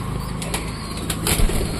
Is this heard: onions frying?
no